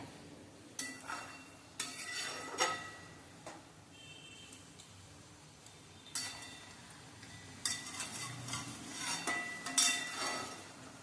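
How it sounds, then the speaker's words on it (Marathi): Moong dal and vegetable stirred in a pan after water is added, a spoon scraping and clinking against the metal in scattered close strokes with quiet gaps between them. "आणि मिक्स करायची पाणी टाकल्यानंतर एकदा"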